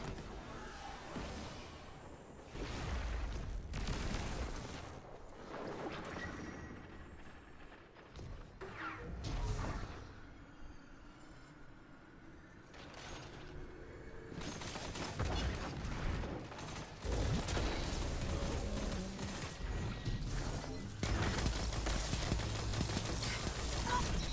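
Hand cannon gunfire from the video game Destiny 2, with sharp shots and bursts scattered through about 24 seconds of busy, loud combat noise and clanking effects.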